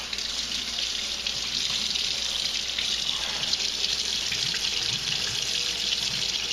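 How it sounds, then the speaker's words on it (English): Cold tap water runs steadily over pieces of brined salmon being rinsed before smoking, a continuous close splashing rush with no pauses and no talk. "you take each piece and rinse it under cold water"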